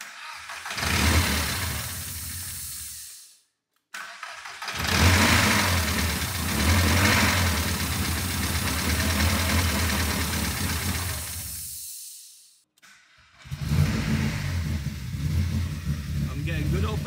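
A high-compression 2.0 16V ABF engine in a VW Golf project car cranks and starts, then settles into a steady, loud idle that cuts out twice and restarts, with a person talking nearby.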